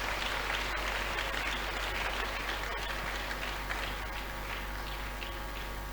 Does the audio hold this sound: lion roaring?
no